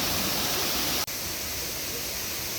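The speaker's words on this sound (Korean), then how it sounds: "왼쪽 옆으로 또 다른 한 갈래의 폭포가 있는데요." Waterfall in Anyang Byeongmogan park, a dense, continuous roar of falling water, loud and even, with a brief dropout near the middle.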